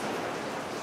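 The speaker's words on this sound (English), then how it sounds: "I didn't know it was raining like that" Heavy rain falls outside as a steady, dense, continuous hiss with no pauses.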